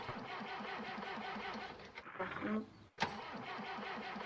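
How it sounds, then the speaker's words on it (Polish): A Zetor 7211 tractor in Farming Simulator 19 cranks over with a rhythmic, labored starter chug in winter cold, pauses briefly, then catches and settles into a steady idle; close and clear, with no talking. "drugi Zetor 7211. Pozwolę go odpalić."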